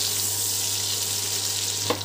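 Steady frying sizzle from a pan of lightly fried raw mango as lentils are poured in, a constant close hiss with a faint low hum and a couple of small clatters near the end.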